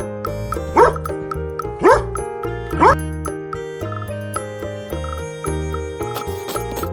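A dog barks three times at even intervals, short sharp woofs set over bouncy children's background music, followed by quieter yips toward the end.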